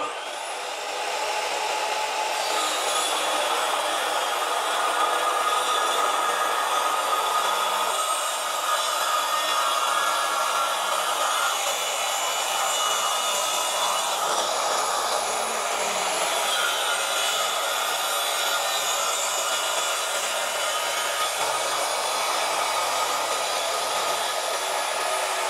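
A Dongcheng DMY185 circular saw with a 60-tooth blade cuts a meranti board roughly 2.5 cm thick, a sustained loud whirring whine that runs for the whole stretch with no talking.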